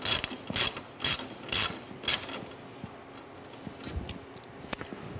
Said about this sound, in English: Fighting with the wrench over there?